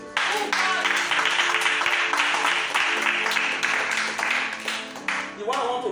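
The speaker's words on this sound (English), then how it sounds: "Clap for Jesus." Church congregation claps during a sermon, sustained dense applause filling the room for several seconds with voices and cheering mixed in, loud and steady before easing off.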